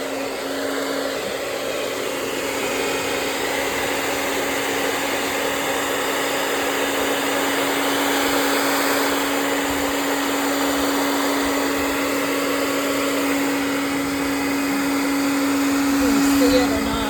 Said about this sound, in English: I took the acrylic paint with water, and I put it on my vase, and I took a hairdryer